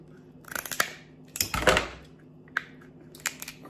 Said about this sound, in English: That's why you definitely need scissors.